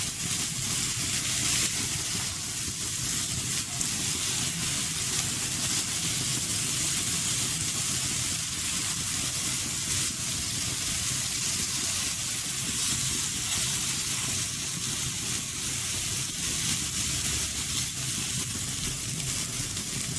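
Kebab frying on a hot tawa gives off a steady, dense sizzle with constant hiss and crackle that holds at the same level throughout, close up, with no talking.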